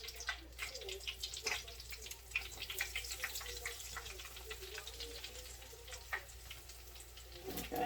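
Broccoli cheese bites and mushrooms fry in oil, a faint, steady crackling hiss with scattered small pops and spits running continuously without talk.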